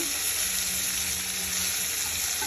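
Curry leaves hit hot oil for a tomato curry, giving a steady, dense close sizzle and crackle that fills the whole moment with no voices.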